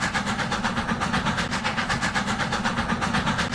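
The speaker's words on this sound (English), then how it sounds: "This train is kind of loud" Strasburg Railroad steam train No. 90 in a Roblox railway game, with a loud, steady rolling rumble and rapid rhythmic chuffing that runs continuously with no breaks.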